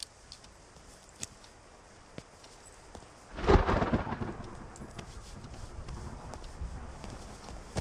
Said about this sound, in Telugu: వర్షం ఇప్పుడప్పుడే తగ్గేటట్లేదు.